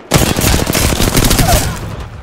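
Automatic weapon fire in the video game Apex Legends comes as a loud, close burst of rapid shots lasting about two seconds before trailing off.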